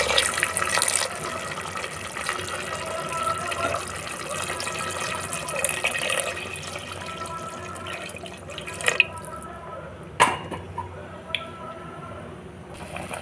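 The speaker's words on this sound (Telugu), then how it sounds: "ఇందులో వాటర్ వేసుకుంటాం." Measured water being poured into a pot for biryani rice, a close, continuous pouring and gurgling that runs for several seconds, followed by a few sharp clinks and drips as it tapers off.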